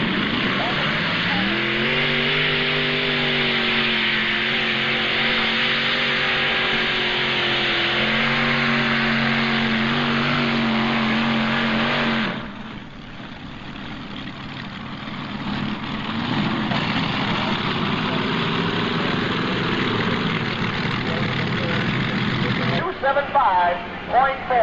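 A modified pulling tractor at a 1995 NTPA tractor pull in Fort Recovery roars loudly and steadily with a droning engine note for about twelve seconds, then drops to a rumbling, fluctuating run under an announcer's voice.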